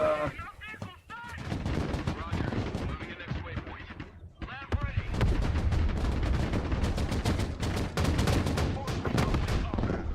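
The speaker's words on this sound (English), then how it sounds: "we've got artillery incoming" Artillery and gunfire crash through a Broken Arrow game battle, with dense bursts of automatic fire and heavy blasts, loud and nearly continuous except for a brief lull, some voices faintly underneath.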